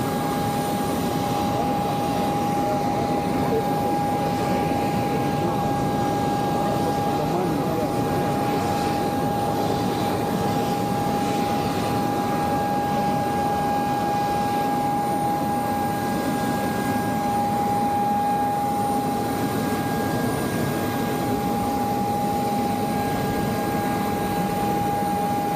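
Continuous drone of an airplane engine with a steady tonal whine over a broad rumble, heard near an aircraft while passengers board in Lagos; even and unbroken throughout, with faint background voices.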